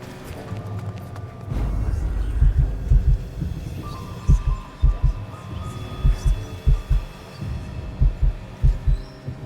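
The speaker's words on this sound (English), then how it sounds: "I think there's something wrong with the washer again." A faulty washing machine in the video game Lucius gives off a low, throbbing hum with steady, rhythmic thumps that keep pulsing through the whole stretch, fairly loud and close, with no talk over it.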